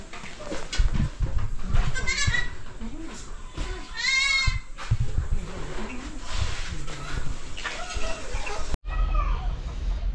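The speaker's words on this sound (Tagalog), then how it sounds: "bagong panganak po itong kambing ni Pare Louie, 3." Newborn goat kids bleat in repeated high, wavering cries close by on a farm, with chickens and other livestock around and people talking throughout.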